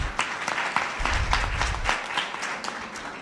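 Audience at a women's annual dialogue gathering claps hands in warm sustained applause, a dense crackle of many hands with some nearby distinct claps and a low rumble of crowd movement.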